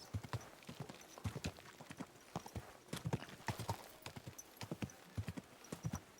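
Horse hooves clip-clopping in the medieval game Kingdom Come: Deliverance 2, a close, steady walking rhythm of crisp individual hoofbeats continuing alone throughout.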